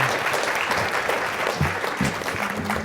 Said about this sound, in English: quick optimistic applause for all of our student panelists here